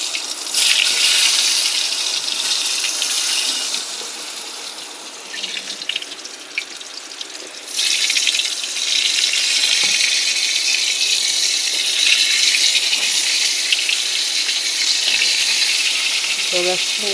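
Whole pointed gourds, skinned, slit and rubbed with salt and turmeric, frying in hot oil give a loud, steady close hiss with a brief dip partway, and a voice speaks faintly underneath.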